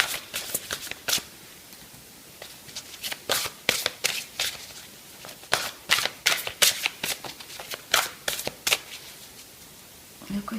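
Chakra oracle cards being shuffled by hand, a steady run of crisp riffling bursts close up, with no talk over them.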